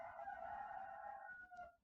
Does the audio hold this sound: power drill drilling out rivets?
no